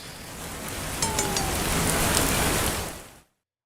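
A steady rain sound effect for a weather report segment, a dense hiss of falling rain that holds at an even level for about three seconds and then cuts off abruptly into silence.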